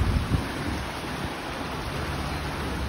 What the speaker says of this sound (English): So did you hear the sound of the water?